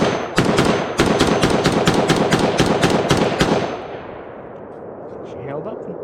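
Springfield Hellion bullpup rifle firing at an outdoor range, about a dozen loud close sharp shots in rapid even succession over three seconds, then quiet with faint speech.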